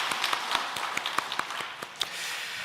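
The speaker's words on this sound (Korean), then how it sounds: "서로 격려의 박수 한번 보내드릴까요?" A church congregation at a Sunday worship service claps together in encouragement, giving a brief patter of many hands heard at moderate distance, with sharp individual claps over a soft, continuous wash.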